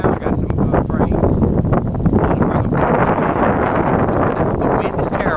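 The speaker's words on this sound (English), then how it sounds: "The wind is terrible. We got about 10 mile an hour winds." Strong gusting wind buffets the microphone outdoors at a bee swarm capture, a loud continuous roar and rumble that fills the whole clip with no break.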